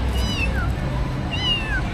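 A pet cat meows twice, close and clear, two short rising-falling calls over a low background hum.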